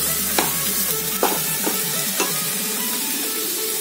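Four medium onions sautéing in a pan, a steady close sizzle with a few sharp scraping stirs of a spatula at intervals.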